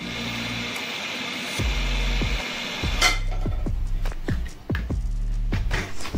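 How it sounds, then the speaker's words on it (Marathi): A kitchen mixer grinder purées a cooled raw mango and mango mixture in short bursts. Its steady motor whine repeatedly winds down between pulses, and the jar clatters and knocks in between. "याला मी मिक्सरच्या भांड्यात काढून चांगलं बारीक करून घेणार आहे"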